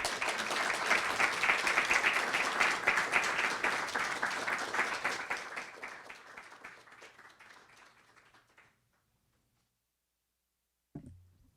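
Audience applauding loudly after a reading at an Indigenous poetics event, a dense sustained burst of clapping that thins and fades out over several seconds, followed by silence and a short knock.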